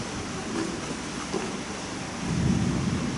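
Steady rain with a low thunderstorm rumble during a gathering where a religious lesson on Surah Yasin is under way, the broadband wash holding throughout and swelling slightly toward the end, with no talk.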